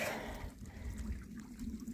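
Water trickling at a small trail water source along the Appalachian Trail, a soft, steady outdoor burble heard close up, with no talk.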